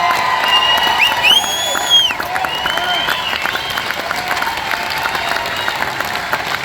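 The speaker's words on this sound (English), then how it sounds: "I hear little bits of claps" Scattered clapping and whoops rise from a concert audience at a casino venue, with a voice calling out and whistling tones over the crowd noise.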